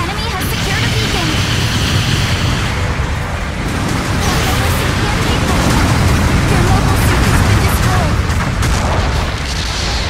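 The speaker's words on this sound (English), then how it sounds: "Supporting fire incoming!" Supporting fire strikes in a mech combat video game land as dense, continuous booming blasts and rumbling impacts, loud and sustained throughout with no clear gaps.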